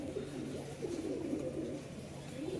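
Low, soft cooing from a roughly seven-year-old pigeon, a repeated gentle murmur near the listener against a faint background.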